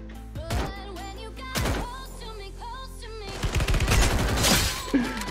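Gunfire in the mobile shooter Free Fire MAX: rapid bursts of shots crack out in several clusters, the densest volley near the end, over a low steady game hum.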